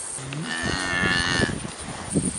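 Cattle on a farm moo in a loud, drawn-out low call with rising harmonics, heard close by over faint background noise, with a second shorter moo at the end.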